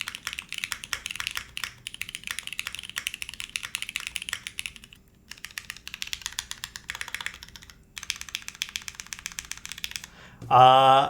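Rapid clacky typing on a Cloudnine 60% mechanical keyboard, close and steady in bursts with brief pauses, ending in a short louder burst of another sound.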